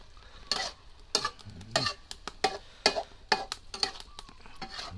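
Chicken offal being stir-fried with red holy basil in a pan, with repeated bursts of scraping and stirring over a steady sizzle, close and fairly loud, no talking.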